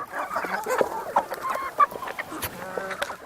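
Several chickens on a farm cluck and squawk in quick, overlapping bursts while feeding, with busy rustling and pecking in between, fairly close and steady throughout.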